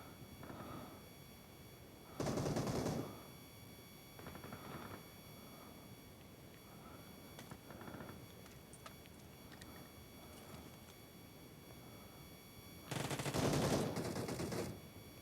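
Bursts of automatic gunfire from the mobile shooter game PUBG Mobile ring out in short rapid volleys, a couple of them loud and the rest fainter and more distant, with quiet gaps between.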